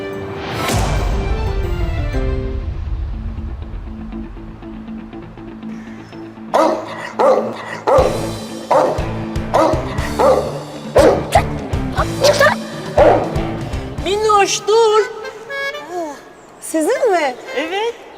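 A dog barks and yips repeatedly in short bursts, close and loud, after a stretch of musical tones and other noise.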